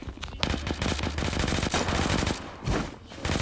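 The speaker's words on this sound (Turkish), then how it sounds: "Ay tabancayla devam ediyoruz." Rapid gunfire in the Zula mobile shooter game, a string of sharp shots, mostly pistol fire, crackling loud and close in quick bursts with brief pauses, no talking.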